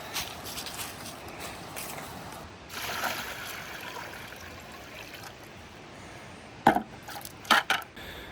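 Running river water trickles and splashes steadily while being gathered for gold panning, with a few sharper sloshes and knocks near the end.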